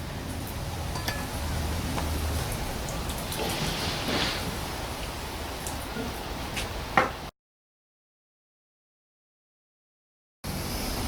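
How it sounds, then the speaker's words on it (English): Water sprays steadily over rear brake parts from a 2011 Mini Cooper during a Bosch brake pad job, a close hissing rinse that stops abruptly, goes silent for a few seconds, then resumes. "And then we can just quickly rinse it."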